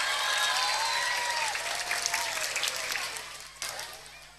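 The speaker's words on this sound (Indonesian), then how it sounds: "Tepuk tangan anak-anak." A group of children claps together in a lively, steady burst that gradually thins and trails off toward the end.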